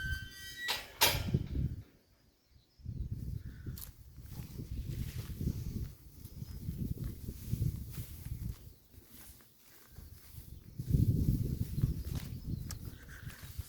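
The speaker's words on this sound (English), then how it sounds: "Creaky old gates." An old creaky gate on an overgrown Cotswolds footpath opens with a brief creak near the start, followed by rustling movement and footsteps through vegetation.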